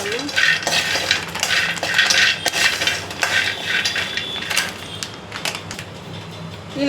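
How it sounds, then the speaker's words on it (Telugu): Almonds being slowly fried in a pan bring repeated close clinks and scrapes of a spatula against metal, irregular and fairly loud, over a soft background hiss. "ఇప్పుడు మనము బాదం ఇవి కూడా అలాగే స్లోగా మనము ఫ్రై చేసుకుందాము."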